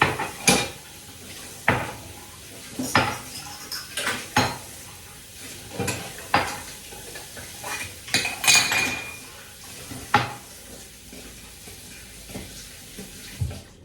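Dishes, cutlery and plates clink and clatter in sharp bursts as they are loaded into a dishwasher, with running water hissing faintly underneath.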